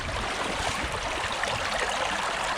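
Water from karst springs flows steadily across the limestone bed of a drained lake, a continuous broadband rushing and trickling stream sound, close and unbroken throughout.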